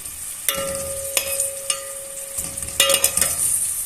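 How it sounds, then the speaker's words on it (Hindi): Oil crackles and sizzles steadily in a pan as onion fries, with a few sharp clatters of a spoon stirring and scraping; close by, with no talking. "तेल डाल दिया और ये प्याज इसमें डाल दिया।"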